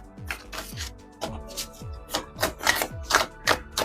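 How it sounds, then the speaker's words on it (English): Playing cards shuffled by hand in a quick cleansing shuffle, a run of crisp riffling bursts repeating at a steady, brisk rhythm, close and clear with no talking. "Just doing a cleansing shuffle real quick here"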